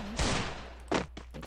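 Gunfire in a video game: two sharp, loud shots about three-quarters of a second apart, followed by a few fainter pops, with no talking.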